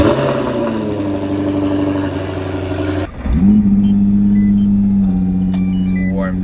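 Jaguar F-type R engine idling loudly and warming up, with a sudden blip and a revving surge midway that settles into a steady high idle, up close with no talk.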